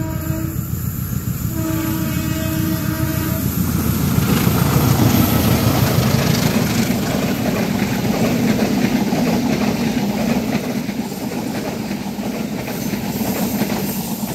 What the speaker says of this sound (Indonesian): Papasannya di pas bawah flyover